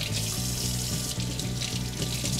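Steady running tap water splashes over eggplant slices being rinsed in a sink, a continuous close hiss and patter with low gurgling underneath and no talk.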